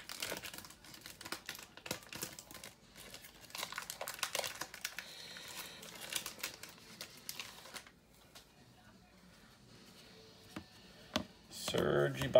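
Crinkling plastic wrapper of a 2015-16 Panini Prizm Cello basketball card pack being torn and handled, with cards shuffling, soft and close, intermittent rustles across the whole stretch with louder crumpling near the end.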